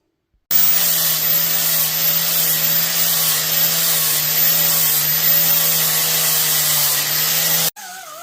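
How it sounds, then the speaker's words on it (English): A power sander smooths rough casting marks on the head of a John Deere Model E engine, running as a loud, steady whine that starts abruptly and cuts off near the end, with no talking. "I'm just going to take my sander and make those look a lot nicer."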